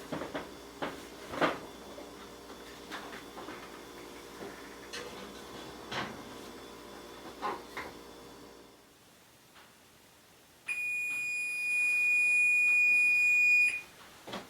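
An oven timer beeps in a home kitchen while cornbread bakes: a steady, continuous electronic beep tone lasts about three seconds near the end, after scattered kitchen clatter and a quiet pause.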